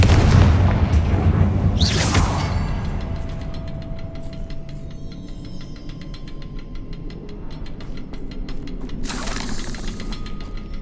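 Confringo spell explosions in the Hogwarts Legacy video game: a heavy boom with a bright crackling burst near the start, a long ringing, fading tail, then a second sharp blast near the end.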